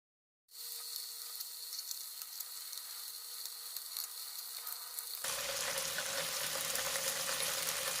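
Cheese and bacon rolls sizzle steadily in a pan over very low heat with no added oil, a continuous close frying hiss that grows louder and fuller partway through.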